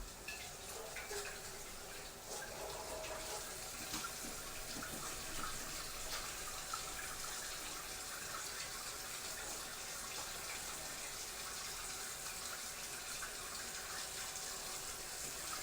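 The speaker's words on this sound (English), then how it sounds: "I'm going to go wash my hands." Water runs steadily from a kitchen tap while hands are washed beneath it, a continuous close splashing hiss that holds evenly for the whole stretch with no talking.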